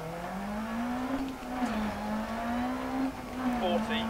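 A rally car engine in the racing game Dirt Rally on a Finnish stage: a steady, droning engine note that rises slightly and holds at fairly low volume, with a voice talking over it.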